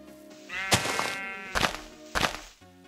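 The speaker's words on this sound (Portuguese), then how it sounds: "Nossa, quanta ovelha." Sheep bleat in Minecraft, one long wavering bleat followed by two shorter thumping bleats, close and fairly loud over soft game background sound.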